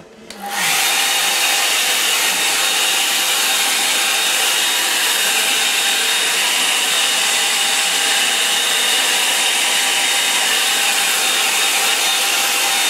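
A hair dryer drying a watercolour painting clicks on and then blows with a loud, steady whooshing hiss that holds level throughout, close to the listener, with no talking.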